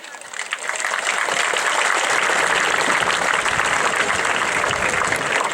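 Audience applause at a high school graduation ceremony: a large crowd breaks into dense, steady clapping that swells within the first second and continues evenly, with faint voices beneath.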